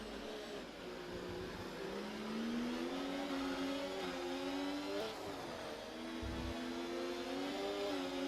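A Haas Formula 1 car in a racing video game at the Singapore circuit, its high engine whine rising and shifting steadily as it passes, with other car engines droning underneath and no talking.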